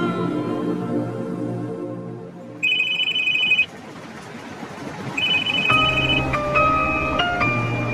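A phone ringtone sounds in a Bangla TV drama scene: two bursts of bright repeating electronic tones, each about a second long, over a quieter musical background score.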